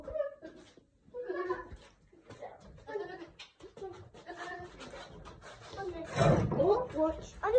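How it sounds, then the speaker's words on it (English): A small goat bleats a few times at close range in a temporary yard, the calls rising near the end, while someone talks to the animal over the top. "So in here, we've got the goat."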